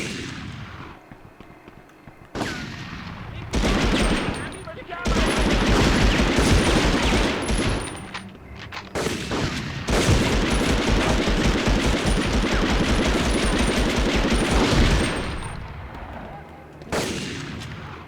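Gunfire in the video game Medal of Honor, with sustained loud bursts of shots and volleys that fill most of the stretch, broken by brief quieter gaps and sharp onsets.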